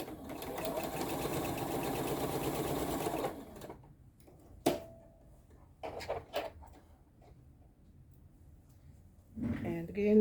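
A domestic sewing machine runs a quarter-inch seam on a crazy quilt block, a steady close mechanical whir lasting about three seconds, then stopping, followed by scattered clicks and handling knocks as a voice speaks.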